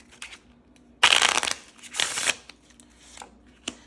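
Tarot-style deck of playing cards being shuffled by hand: a loud, close riffle burst followed by a second shorter riffle, then softer card flicks and a final tap.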